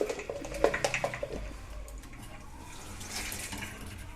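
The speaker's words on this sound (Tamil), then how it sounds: "இப்போ லைட்டாக வாஷ் பண்ணிவிட்டு நீங்கள் ஊற வைங்க" Water poured over fenugreek seeds in bowls in a home kitchen, a steady splashing hiss that swells and fades, with a few sharp clinks and drips early on, close and moderately loud.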